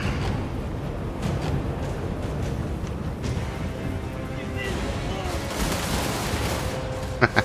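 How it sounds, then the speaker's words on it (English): Massed gunfire volleys crackle in a dense, continuous battle din in Total War: Warhammer 3, with Kislev forces under Katarin fighting on Legendary difficulty; two sharp louder shots stand out near the end. "Those guns open up, they know they've messed up."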